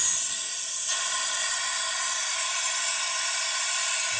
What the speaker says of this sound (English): it'll cause air to blow through there and get louder